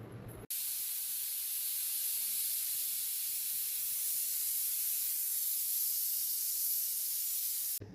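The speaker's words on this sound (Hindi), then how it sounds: "चने तो यहाँ उबल गए" Steam hisses steadily from a pot of boiling chickpeas, a loud continuous broadband hiss that starts abruptly and stops abruptly near the end, with no talk.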